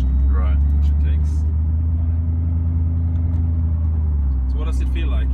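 Koenigsegg Regera engine held at high revs with the clutch slipped to mimic a downshift, a loud sustained low rumble that stays steady throughout, with brief voices talking over it.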